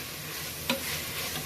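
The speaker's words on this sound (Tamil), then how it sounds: "அந்த இஞ்சி பூண்டோட பச்சை வாசனை போற வரைக்கும் வதக்கணும்" Ginger-garlic masala with tomato sautéing in a pan gives a steady soft sizzle, with a single sharp scrape of the spatula midway.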